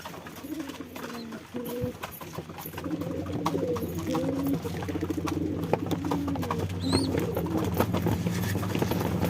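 Pet pigeons in an upper loft, fed on a rainy day, keep up steady overlapping coos nearby, a soft continuous murmur with occasional louder calls and faint rustling.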